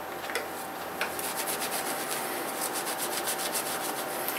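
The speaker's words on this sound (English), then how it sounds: "I'm cleaning up a bicycle disc rotor. This is surgical spirit in there." Steady close-up rubbing of a bicycle disc brake rotor with a cloth and surgical spirit, a continuous fine scratchy friction with quick repeated strokes and no talking.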